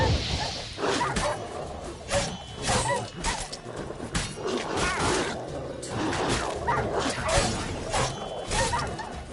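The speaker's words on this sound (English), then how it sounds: "These dogs been a problem for a while now?" Dogs barking and yipping in the Witcher 3 video game, several yaps and a whimper repeating through the clip over game ambience, with some voice underneath.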